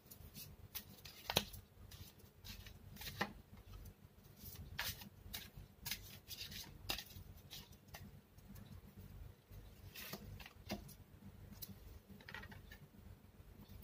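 Tarot cards being shuffled and drawn, quiet close crisp flicks and slides of cardboard in irregular bursts against a faint hushed background.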